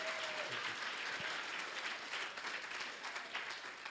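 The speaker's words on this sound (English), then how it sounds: "you can clap for yourselves" Staff at an all-staff meeting applaud themselves, a steady, fairly quiet wash of many hands clapping together, continuous throughout with no talking.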